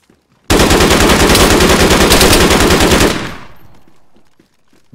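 Loud, sustained burst of rapid automatic gunfire from a big gun in the video game DayZ, a dense rattling stream lasting about two and a half seconds before cutting off and fading into a quiet tail.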